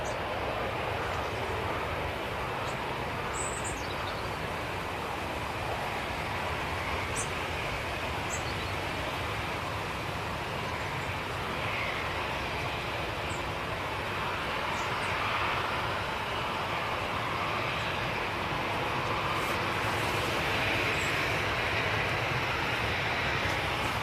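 A Ryanair airliner takes off at Manchester Airport, giving a sustained, broad engine roar that stays dense and level from start to finish, with faint higher tones drifting above and no voices.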